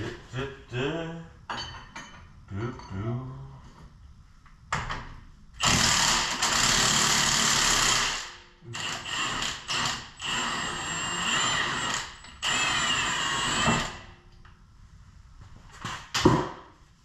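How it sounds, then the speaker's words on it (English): Impact wrench turning a shock absorber bolt on a Dodge Durango with load-levelling shocks, heard as several loud, sustained buzzing rattles separated by pauses, close up and with no talk. "I'm gonna hold the nut with a wrench and then impact the bolt."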